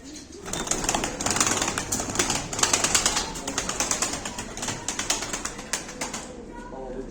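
Tumbler pigeons kept as show birds in a loft, with soft coos and bursts of wing flutter forming a steady, busy flurry close by while someone talks over them throughout.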